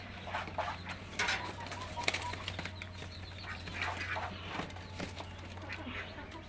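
Pigeons in their loft during moulting: soft cooing, wing flaps and shuffling close by, with a steady low hum beneath.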